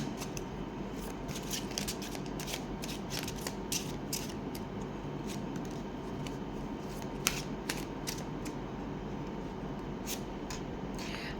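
Tarot cards being shuffled continuously at close range, a steady papery riffle and slide with occasional sharper snaps, no voices.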